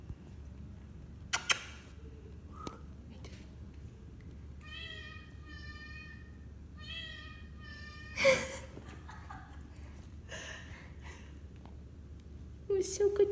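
A pet cat meows in a small indoor space, a few soft, harmonic mews spread across the moment, mostly faint and partly under quiet human voices and light handling noise.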